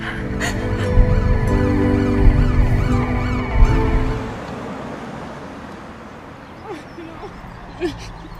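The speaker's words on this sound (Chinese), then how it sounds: "可听着不远处的警笛声" A police siren wails close by in a tense crime-drama scene, its rising and falling tones loud for about four seconds before fading into a quieter, rumbling background with a few faint knocks.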